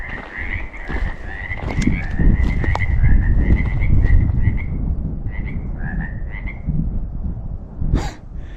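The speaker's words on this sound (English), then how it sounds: "even 200 yards back, you just hear a ton of frogs" A dense chorus of many frogs croaks continuously near water in eastern Oregon in spring, with a steady high trilling layer over a rumbling background; no voices.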